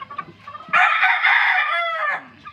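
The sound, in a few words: three-month-old chickens clucking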